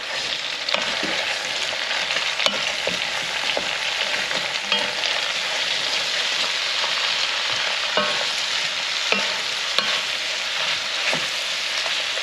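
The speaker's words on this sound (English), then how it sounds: "We'll just cook these for a couple minutes." Food sizzles and fries steadily in a hot pan while being stirred and scraped, with occasional clicks of the utensil against the pan; the sound is loud, dense and continuous, with no talking.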